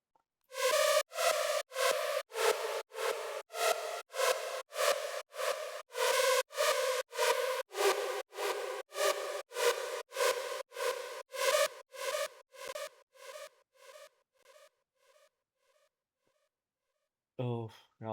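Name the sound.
synth lead melody made in Serum 2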